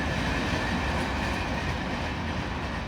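A loud, continuous rumble of a freight train passing close by in snow, with rolling wheel noise and clatter, steady throughout with no pauses.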